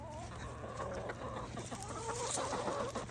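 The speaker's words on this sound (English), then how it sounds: "I'll throw this grass in there for my chickens." Backyard chickens clucking and murmuring together at close range, a continuous soft chorus of overlapping clucks over a low background hum.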